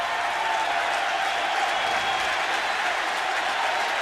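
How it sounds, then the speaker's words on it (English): A packed baseball stadium crowd roars and applauds after an Orioles home run in a 1996 postseason game at Camden Yards, a dense, continuous wall of cheering with no break. "The fans are on their feet. They haven't finished cheering yet."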